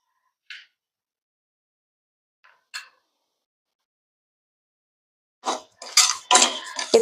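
Spoonfuls of sugar go into a heavy-bottomed pan for caramel, heard as a few isolated metallic taps and clinks of a spoon, spaced apart in quiet, then a quick cluster of close scraping clatter at the end.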